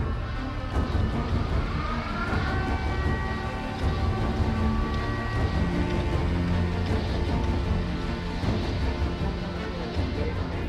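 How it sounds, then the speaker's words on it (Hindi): A Ukrainian police siren sounds its wartime warning to civilians, heard from a distance with steady wailing tones rising and falling over a low rumble of background noise. "यूक्रेन की पुलिस सायरन बजाकर सिविलियन को जैसे ही अलर्ट करती है"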